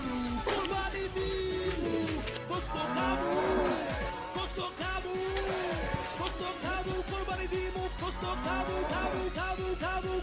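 Cattle mooing repeatedly at night on a farm, loud drawn-out moos overlapping from several animals close by, with a steady rhythmic pulsing background throughout.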